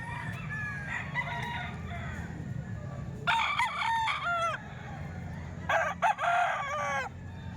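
Roosters crow several times, two long hoarse calls standing out over a low background of other farm sounds.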